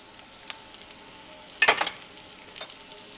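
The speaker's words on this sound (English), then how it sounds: "we're just going to put the onions" Onions sauté in a pan over raised heat, a soft steady sizzle with a brief louder crackle and scrape as they are tipped in and stirred.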